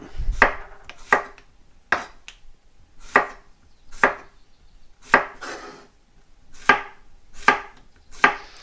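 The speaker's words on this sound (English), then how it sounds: "I'm going to cut the zucchini into rings" Kitchen knife slicing zucchini into rings on a cutting board: about a dozen crisp, separate chops in a slow, even rhythm, close and clear with no talking.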